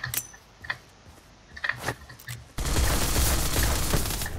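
Saiga shotgun firing in the surviv.io video game: a few scattered shots and clicks early on, then a sudden loud, sustained burst of dense gunfire filling the rest of the clip.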